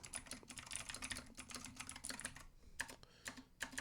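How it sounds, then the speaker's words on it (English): Rapid typing on a computer keyboard produces dense, close clicks and key taps in quick bursts, with a short pause near the end, and no talk over it. "Y'all like my typing speed?"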